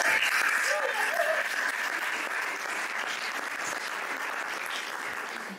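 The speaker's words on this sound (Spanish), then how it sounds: "¿qué les parece si le damos un aplauso a la organización de este lugar?" Audience at a talk on the Gospels breaks into full, steady applause for the venue's organizers, a thick, sustained clapping that slowly thins and fades with light crowd voices underneath.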